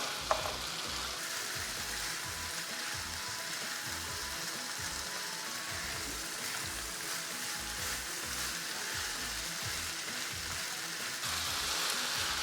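Beef and capsicum stir-fried together in a hot pan for dragon beef, a steady dense sizzle with faint stirring scrapes, close and continuous throughout with no voices.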